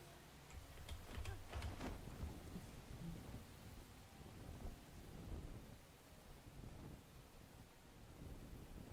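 Rain and thunder in the video game Enshrouded, with steady rainfall hiss and rumbling thunder rolls near the start, continuing as a constant stormy ambience with no speech.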